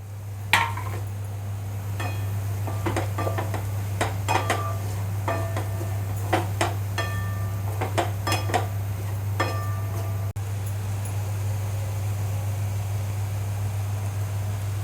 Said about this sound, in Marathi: मसाले भाजल्यानंतर यामध्ये आता बटाट्याचे तुकडे टाकून 1-2 मिनिटं परतून घेऊ